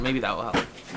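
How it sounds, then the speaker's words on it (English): A door swings shut indoors with a single thud partway through, while a person talks before and after it. "I'm gonna close my door."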